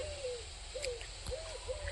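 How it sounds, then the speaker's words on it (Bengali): Birds calling in a village garden: soft, repeated hooting calls, about four over two seconds, faint and alone against quiet background hiss. "পাখিরা ডাকছে শুনতে পাচ্ছ"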